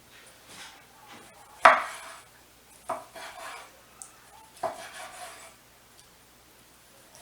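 A knife slices through beef tenderloin on a board, producing a few distinct sharp scraping cuts and knocks spaced seconds apart, close and clear without talk.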